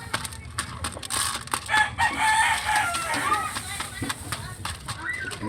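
A bantam rooster crows nearby, one drawn-out cock-a-doodle call rising over scattered clucking and general yard noise, with people talking around it.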